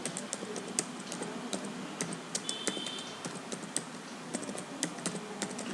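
Quick, irregular key clicks from a computer keyboard, close and clear, with bursts of taps and short pauses and no voices.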